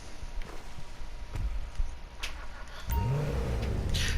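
A Lampadati Komoda sports car in the game GTA 5 starts up near the end, its engine rising into a loud steady idle after some light clicks and shuffling sounds.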